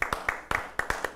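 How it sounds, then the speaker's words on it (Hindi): Sparse, distinct hand claps from an audience at a New Year kavi sammelan poetry event, about eight sharp claps in just over a second, fairly close and moderately loud with no talk over them. "एक बार जोरदार तालियों से स्वागत कीजिए।"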